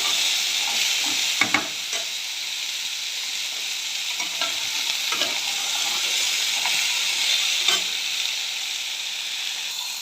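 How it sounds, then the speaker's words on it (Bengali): Potatoes fry on a high flame for chachchori, a strong, continuous hissing sizzle with occasional sharp pops and stirring clicks, no voices. "এখন ফ্লেমটা জোরে রেখে একটু হালকা করে ভাজা মতো করে নেব।"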